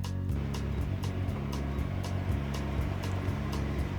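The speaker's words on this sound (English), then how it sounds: "You can probably hear that truck outside." Outside a house, a truck's engine drones low and steady with a regular pulsing throb, moderately loud and continuous throughout.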